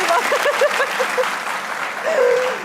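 A studio audience at a comedy talk show claps in a steady, full wash of applause, with voices and laughter mixed in throughout.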